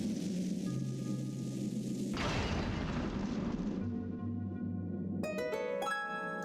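A bomb goes off in The Legend of Zelda: Skyward Sword, a deep rumbling boom that swells and fades over a few seconds amid game music, followed by bright chiming jingle tones near the end.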